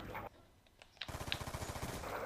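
Rapid automatic gunfire bursts in Call of Duty Black Ops 2, a quieter spatter of shots followed by a steady, rhythmic burst of rounds lasting over a second.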